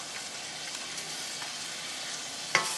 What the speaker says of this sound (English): Shrimp doesn't take very long to cook, but you do want to make sure it's a nice even cook.